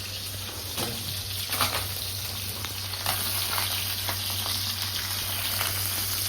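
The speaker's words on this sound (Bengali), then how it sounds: "আমরা ভয় ভয় কড়াই থেকে দূরে সরে আছি, কারণ মাছ ভাজা চলছে।" Fish frying in hot oil in a kadai gives a steady, close sizzle and crackle throughout, with no voices.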